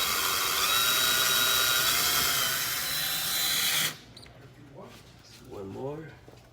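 A power drill drives screws into a retractable license plate mount, with a loud, steady, high whine for about four seconds that stops abruptly before someone speaks.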